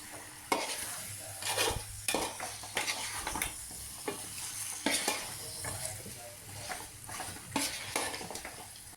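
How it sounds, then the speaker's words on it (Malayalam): Chicken pieces for biryani sautéing in masala over a high flame, a loud sizzle punctuated by repeated metal spoon scrapes and clanks against the pot as it is stirred vigorously. "ഹൈ ഫ്ലെയിമിൽ തന്നെ ഇട്ടിട്ട് വഴറ്റിയെടുക്കണം"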